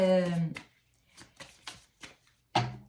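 Angel oracle cards shuffled and drawn, a few soft papery slaps and rustles in quick succession, close and quiet, with someone speaking before and after.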